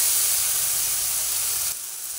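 Ingredients fry in a pan as ginger cooks down for an egg curry, giving a loud, even hiss of sizzling that drops a little in level near the end, with no talk over it.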